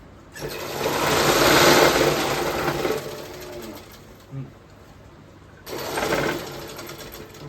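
Sewing machine stitching a two-fold layer of old saris into a quilt, a loud close whirring run of stitching for a few seconds, a pause with faint pigeon cooing, then another short burst.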